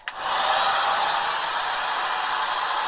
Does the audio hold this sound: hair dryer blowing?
yes